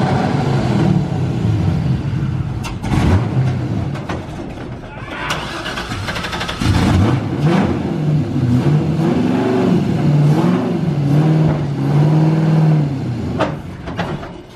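Camper van engine cranking and catching, then revving and dropping off as it stalls near idle, starting again for longer running with rough throttle swells, voices talking over it.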